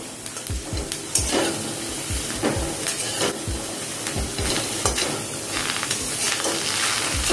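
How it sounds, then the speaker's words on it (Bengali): Chicken and diced tomato cooking in a pan without oil over low heat, stirred with a spatula giving repeated scraping strokes over a soft continuous sizzle, close and with no talking. "এটাকে একটুখানি নাড়াচাড়া করে নেব।"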